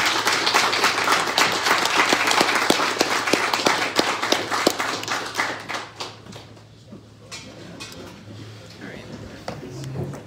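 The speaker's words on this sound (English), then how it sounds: "big round of applause for our" An annual meeting guest panel's audience breaks into a big round of applause, dense clapping that fades after about six seconds into scattered claps and murmuring voices.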